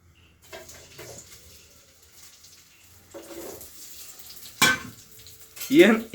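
Oil heating in a pan for a lentil curry gives a soft, uneven sizzle, followed by two louder bursts of frying hiss near the end, close by and with no talking.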